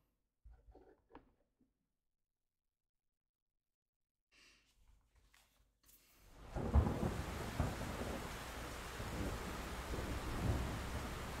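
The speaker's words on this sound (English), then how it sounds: "Listen to that rain." Heavy rain and rumbling thunder sweep in from near silence in the video game Like a Dragon: Infinite Wealth, a loud, steady downpour with low rolls of thunder.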